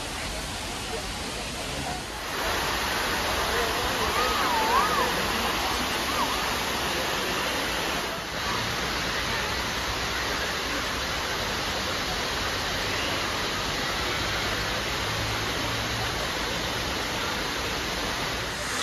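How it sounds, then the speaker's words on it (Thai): Sai Yok waterfall in Thailand, a steady loud rush of falling water filling the air continuously, heard up close from about twenty metres away on a busy day. "ตอนนี้เราก็เข้าถึงน้ำตกแล้วนะครับผม20เมตรใกล้ๆบรรยากาศนี่คือเป็นบรรยากาศที่น้ำตกนะครับผม"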